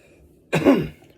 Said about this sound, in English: That's when I cough.